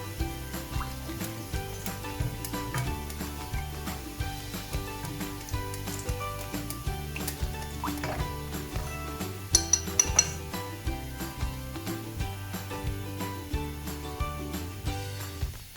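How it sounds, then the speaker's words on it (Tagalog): A spoon clinks and scrapes repeatedly against a bowl while stirring a lemon sauce mixture with cornstarch, a busy rhythmic tinkling of cutlery with a few sharper clinks partway through and no voices. "Haluin lang natin siya ng konti para ma-dissolve pa yung ating cornstarch kanina."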